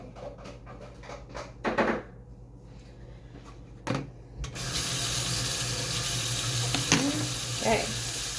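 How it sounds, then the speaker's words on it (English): A kitchen tap turns on and water pours steadily into a sink to rinse plastic Tupperware containers, preceded by clattering of containers being handled; the flow stays close and continuous with occasional splashes. "Gonna rinse these Tupperwares."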